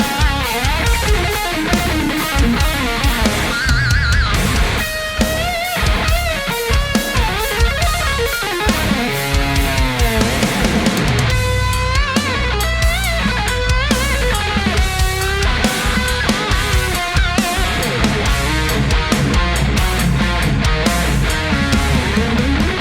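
A heavy lead guitar through a Kemper amp with harmonizer and delays plays within a full dense band mix, loud and continuous with driving drums and bass throughout, no talk.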